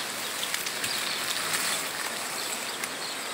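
Rain falls in Sobral, Ceará, a steady soft wash of drops with scattered faint patters and drips on nearby surfaces, fairly quiet and continuous throughout.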